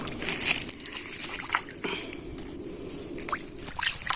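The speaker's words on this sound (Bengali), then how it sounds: "এবার আমি মাছগুলো জলে দিয়ে মাছটাকে ধুয়ে নেব" Cut pieces of a 2.5 kg fish are washed by hand in water, giving soft sloshing, splashes and drips close by, with a voice talking over them.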